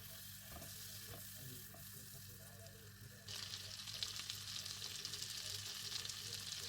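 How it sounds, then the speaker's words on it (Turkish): About two tablespoons of butter melting in a frying pan, a soft steady sizzle that grows louder and brighter partway through, close and quiet with no talking. "Öncelikle tavamıza 2 yemek kaşığı kadar tereyağı ekleyelim ve eritelim"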